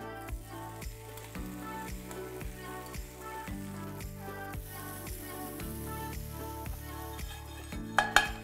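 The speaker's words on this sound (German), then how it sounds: "Weiter ein bisschen Kokosöl in die Pfanne. Weiter das Schnitzel anbraten" Soft sizzling of a schnitzel frying in coconut oil in a pan runs beneath rhythmic background music, fairly quiet throughout.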